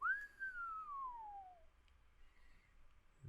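A person imitates a whistling noise with a single rising then long falling whistle tone, close and clear, with a quiet room behind it.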